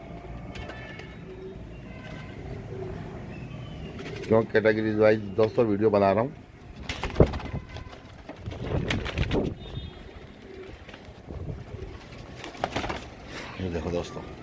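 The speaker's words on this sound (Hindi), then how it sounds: "ये डार्क कबूतर भी छोड़ूंगा अभी," Pigeons coo in short, throaty bursts, a clear run of rolling calls near the start, amid wing flutters and other noises, while someone talks over much of it.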